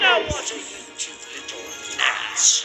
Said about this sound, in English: If you hear the dog bark, uh, crying in the background